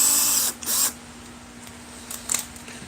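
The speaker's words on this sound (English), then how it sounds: "Good old Bosch drill." A Bosch power drill whirs in two short bursts at the start, a high-pitched motor whine that stops abruptly, followed by quieter clicks and handling sounds with a low steady hum underneath.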